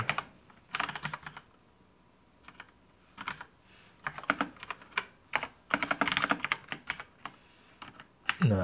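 Bursts of typing on a computer keyboard, quick clusters of key clicks separated by short quiet pauses, close and fairly soft.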